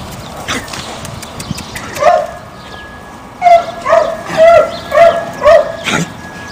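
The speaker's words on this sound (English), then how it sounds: "At the shelter, we like to make the dogs happy." Several dogs at an animal shelter bark in a quick run of sharp, loud barks, close to the microphone, with a few yips between bursts and no talking.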